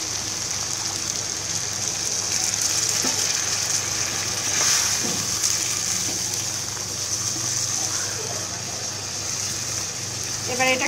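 Spiny gourd bhaji sizzles and hisses steadily in a pan as water is poured in, a bright frying crackle running throughout with a brief louder surge midway.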